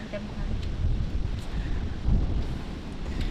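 Strong wind buffets the microphone while someone rows a boat, a continuous low rumbling roar that stays loud and fairly even throughout, with brief speech mixed in.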